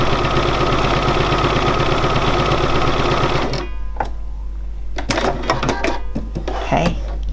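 A Bernina 475QE sewing machine does free machine embroidery, with a fast, steady mechanical stitching whir and a constant low hum. The motor stops partway through, leaving faint clicks and handling noises.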